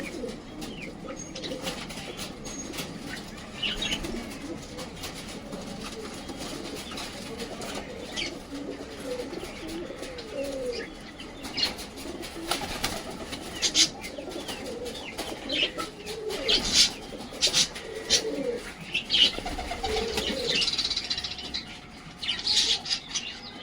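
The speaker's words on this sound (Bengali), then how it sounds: "এই গোলাপ পায়রা দুটো আমার বাড়িতে জায়গা বানিয়ে নিয়েছে" Rose-coloured pigeons coo steadily through a busy, noisy background, with occasional squawks and bursts of wing flapping.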